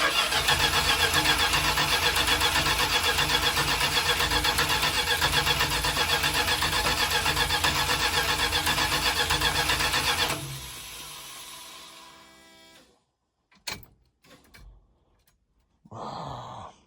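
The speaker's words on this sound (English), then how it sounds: "even though it's a reman starter, it no longer sounds like a Chrysler starter." A remanufactured starter cranks the engine of a vintage RV in a loud, steady, continuous whir for about ten seconds, then cuts off and winds down, followed by a few faint clunks and a short burst of noise near the end.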